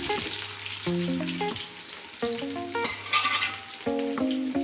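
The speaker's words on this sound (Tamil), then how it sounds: "சட்டி சூடானதுக்கப்புறம் ஆயில் ஊற்றணும். பட்டை, சோம்பு, லவங்கம், பிரியாணி இலை பொரிஞ்சதுக்கப்புறம் பெரிய வெங்காயம்," Cinnamon, fennel seeds, cloves, bay leaf and onion fry in hot oil in a pan for chicken biryani, a continuous bright sizzle running under loud melodic music throughout.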